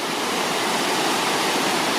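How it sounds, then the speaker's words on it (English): Waterfalls pour down inside a cave, a loud, steady, unbroken roar of rushing water that fills the whole space with no voices. "you got the waterfalls that go down all the way like that"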